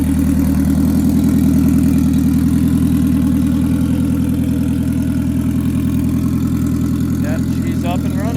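Turbocharged Honda CRX idling, a loud, steady low drone with a fast, even pulse that holds throughout, close by, with a few faint higher sounds near the end.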